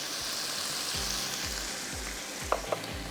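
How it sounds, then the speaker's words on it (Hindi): Chicken fries in a pan with red chili powder, turmeric and spices, giving a steady close sizzle with rhythmic low stirring scrapes and a couple of sharp utensil knocks near the end. "अच्छी तरह चिकन को भूनिएगा"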